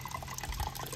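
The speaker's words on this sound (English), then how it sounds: "put some water until this level before we start boiling this one" Water is poured into a pot over washed meat, a short continuous splashing gush that stays fairly quiet and steady for about a second.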